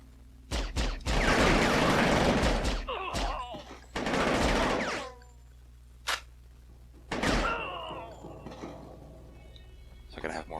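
Machine gun fire in the video game PSI-Ops: The Mindgate Conspiracy comes as two loud, dense bursts of rapid shots, followed by a few isolated thuds and a shorter burst over a steady low background hum.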